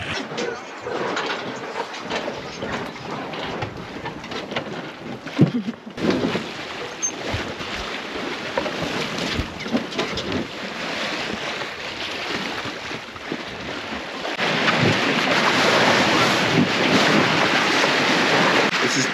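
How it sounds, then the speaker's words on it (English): Sailboat running before a light following wind on open sea, with steady rushing wind and the wash of waves against the hull throughout, the wind noise swelling louder toward the end. "We have like light wind just coming from behind us. It's like light downwind sailing."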